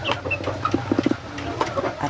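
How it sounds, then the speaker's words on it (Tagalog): Young chicks chirp and cheep in a quick cluster of short calls while being fed in a freshly sanded pen, close by and fairly loud over a low background. "papakainin muna natin yung aking sisiw"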